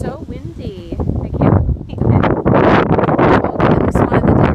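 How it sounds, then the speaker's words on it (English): Strong wind buffets the microphone in heavy low rumbling gusts, while people talk over it throughout. "It's so windy."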